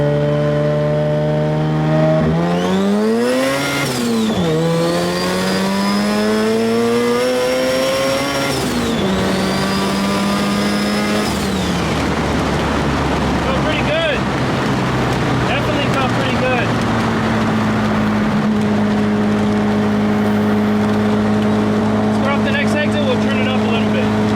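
A rotary-engined Suzuki Samurai with raised boost pulls hard at highway speed, its engine note rising through two loud sweeping climbs before settling into a steady cruising drone, with a voice talking over it.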